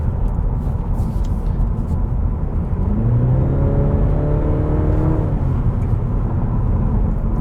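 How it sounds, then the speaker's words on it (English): A 2020 Cadillac CT4 engine accelerates from inside the cabin, a low steady drone rising in pitch through the middle of the run before settling again under constant road rumble. "engine got some oomph to it"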